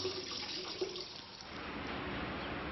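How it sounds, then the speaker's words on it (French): A small drinking-water tap runs in a bare concrete prison cell, giving a faint, steady hiss of flowing water that continues for the whole moment with no voices. "Un petit robinet pour boire."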